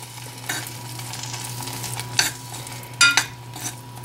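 Cooking cream being stirred with sun-dried tomato pesto makes a soft, close stirring sound over a low steady hum, with a few sharp clinks of a utensil against the pan.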